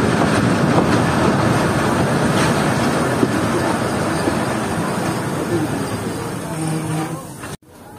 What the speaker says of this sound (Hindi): लेकिन फिर भी ट्रेन रुक रही है